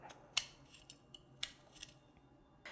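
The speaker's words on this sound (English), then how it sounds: "I use a peeler, but you can also use a paring knife." A vegetable peeler scrapes the tough outer skin off a broccoli stem in a kitchen, giving a few quick, crisp, close scraping strokes at irregular intervals over quiet background.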